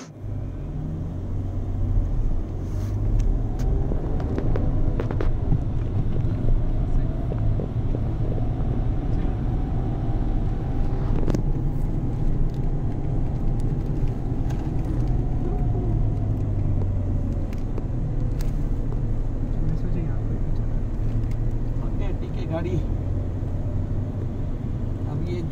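Renault Triber car driving up a steep hill, its engine rumbling steadily and loud throughout, with low drone and some wind and road noise, no talk over it.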